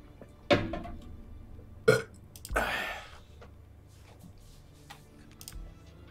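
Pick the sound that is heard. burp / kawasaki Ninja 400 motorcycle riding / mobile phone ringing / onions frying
burp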